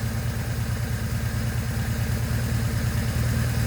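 BMW R1100S motorcycle engine idling steadily close by during a valve adjustment and cam chain tensioner job, a loud even low throb with a slight rise in pace toward the end and no talking.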